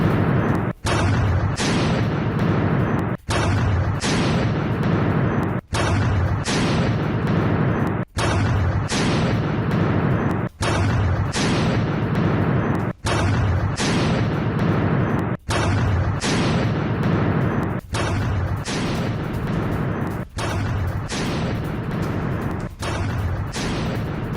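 Loud, heavy blasts of explosions at a missile plant on a military base repeat in a roughly even rhythm, each a dense rumbling roar cut off by a brief break.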